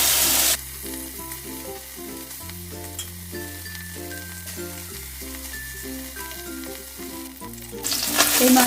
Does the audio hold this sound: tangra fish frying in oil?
yes